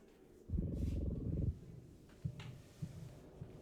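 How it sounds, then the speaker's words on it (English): A low rumbling buzz like a purr lasts about a second, followed by a few short, softer buzzing pulses: a phone vibrating in the video game The Quiet Man. "the sound of the phone on this motion just sounds like a cat purring into a microphone"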